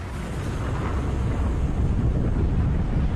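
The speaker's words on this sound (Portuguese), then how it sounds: "A plataforma foi abalada por uma explosão." A deep, sustained rumbling roar of an explosion on an offshore oil drilling platform, heavy low-end energy that holds steady throughout like a massive blast and fire.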